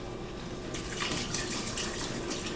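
Expired milk pours down a sink drain, a continuous splashing, gurgling liquid stream that starts abruptly after a short quiet moment and runs steadily to the end, close and fairly soft, with no talking.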